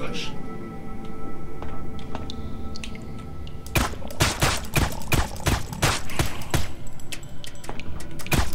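Gunfire in the sci-fi shooter Dark Matter: a quiet stretch, then a run of sharp, loud shots in an irregular rhythm for the last several seconds, with someone talking throughout.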